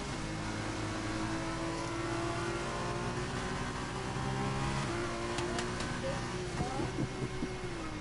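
Race cars in an F2 racing video game at the Red Bull Ring, Austria, droning steadily behind the safety car, engine tones layered and shifting pitch, with a few brief higher whines near the end.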